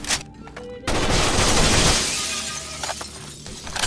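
Glass shatters loudly amid gunfire in a first-person shooter video game, a sharp burst of breaking panes that washes into a sustained crash with rattling debris and further shots.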